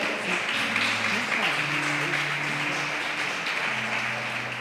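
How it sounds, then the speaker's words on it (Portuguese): A church congregation claps continuously through a steady wash of sound while music plays beneath, with a voice joining over it at times. "Você pode aplaudir o nome do Senhor?"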